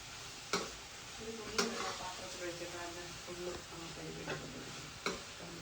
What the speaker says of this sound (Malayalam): നേരത്തെ വറുത്ത് കോരി വെച്ചിരിക്കുന്ന സോസേജ് കഷ്ണങ്ങളും കൂടി ചേർത്ത് നന്നായിട്ട് മിക്സ് ചെയ്ത് കൊടുക്കണം